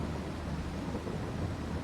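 Steady rainfall hisses with a low rolling rumble of thunder in Farming Simulator 22, an even, unbroken storm texture with no talking.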